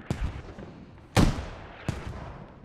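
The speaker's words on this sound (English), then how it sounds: "it sounds like mortars are already coming down on these guys" Mortar rounds explode in a military video game set in hilly terrain, three heavy booming blasts, the middle one loudest, each trailing off quickly.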